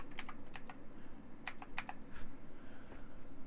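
Letters typed on a computer keyboard, close crisp key clicks in small quick clusters with short pauses between them, alone without talk.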